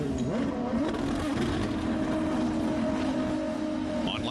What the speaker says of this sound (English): And Michel Jourdain making a pit stop.